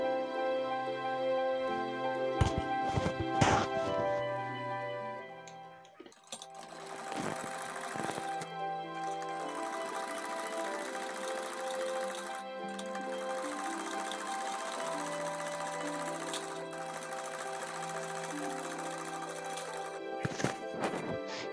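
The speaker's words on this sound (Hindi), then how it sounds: "और अब हम साइड की सिलाई लगा लेते हैं।" A sewing machine runs steadily, stitching the side seam of a frill sleeve in a continuous whirring hum with a few short pauses and restarts.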